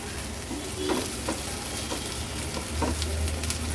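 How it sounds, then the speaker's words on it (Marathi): Chopped onion frying and being stirred in a pan for Agri-Koli style prawn masala, a soft steady sizzle with occasional light scrapes and stirs, close and moderate in level with no talking. "कांदा थोडासा परतून घेतला"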